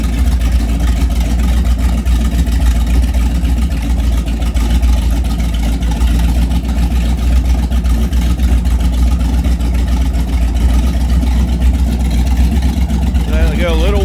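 A MerCruiser 454 7.4L big-block boat engine with a Bravo One outdrive runs steadily on land during winterizing, a loud, even low rumble that holds without change, with a faint clatter near the end.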